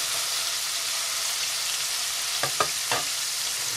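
Melted butter fries in a pan before breading is added, giving a continuous soft sizzle with a few quick stirring clicks near the end and no voices.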